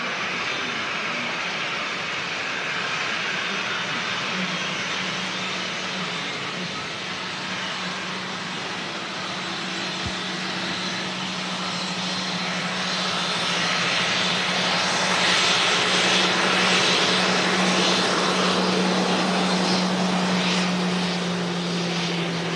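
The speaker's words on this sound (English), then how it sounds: "Another aircraft about to touch down as well. Certainly looks like a Ryanair." A Ryanair airliner coming in to land at Manchester Airport, its engines a steady, loud broadband roar that swells slightly as the jet nears, with a sustained low hum underneath.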